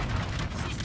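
Ship guns firing at an enemy destroyer in the video game Call of Duty Infinite Warfare, a dense low rumbling barrage of cannon fire, loud and continuous over a brief moment.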